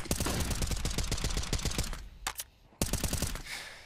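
Rapid automatic rifle fire from a CS:GO match, loud and close, with sustained bursts of closely spaced shots, a short break, then another dense burst.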